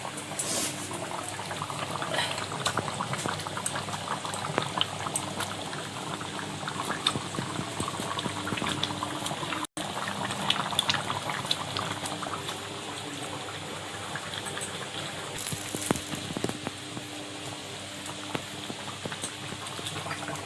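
Fish curry broth with spice paste bubbles in a pot at a steady simmer, a close continuous burbling with occasional utensil knocks and a brief cut partway through.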